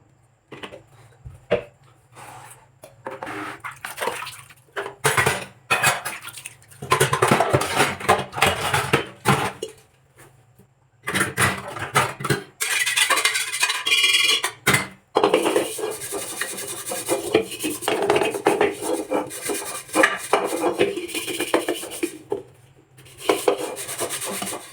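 A pressure cooker and dirty dishes are scrubbed by hand at the sink, with a harsh, gritty rubbing in long bursts separated by short pauses. The sound is close and loud.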